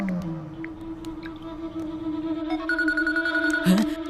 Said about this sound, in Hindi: अरे डॉन मंगल सिंह का फोन आ रहा है, काट दूं क्या?